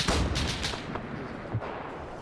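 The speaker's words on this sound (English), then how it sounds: "we have a barrage of machine gun fire trying to come in on this Maxim" Machine gun fire in a WWII-era combat video game, aimed at a Maxim gun position. A rapid barrage of sharp, loud cracks lands right at the start, followed by further scattered shots and a rumbling echo.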